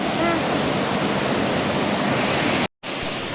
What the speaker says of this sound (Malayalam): അടിപൊളി വെള്ളച്ചാട്ടമല്ലേടാ